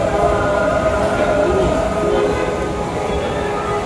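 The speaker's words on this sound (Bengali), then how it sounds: "মেট্রো স্টেশনে যাচ্ছি" Steady rumbling train noise fills a metro station, a continuous low roar of rail cars with a faint hum and no clear voices.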